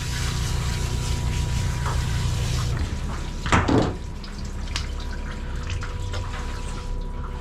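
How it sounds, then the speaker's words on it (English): Water spraying steadily from a grooming hose onto a poodle being saturated during a mobile grooming session, a continuous hiss with faint drips and a brief clatter midway. "I'm just gonna get her all wet, saturated with water"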